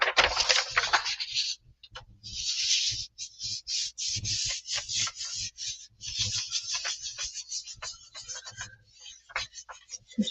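Paint is rubbed off a surface with a folded piece of paper, giving repeated scratchy, rasping strokes in an irregular rhythm, close and fairly loud, with brief pauses between strokes.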